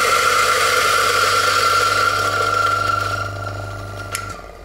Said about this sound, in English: So now the grinder is empty, almost empty